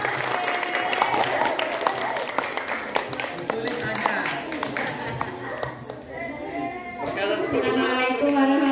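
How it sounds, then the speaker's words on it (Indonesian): Classroom applause for a young student at an Islamic primary school, many hands clapping steadily and close by, mixed with children's chatter and a few voices over the clapping. "tepuk tangan dulu tuh Mas Nasa"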